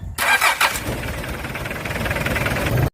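Mitsubishi Pajero engine cranking and catching after an oil leak repair, a sharp starter burst followed by a loud, close, rough, steady idle that cuts off abruptly.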